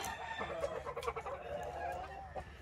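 Chickens cluck and murmur close by in a farmyard coop, a string of short, uneven clucks and throaty calls with a faint crow-like note, no talking.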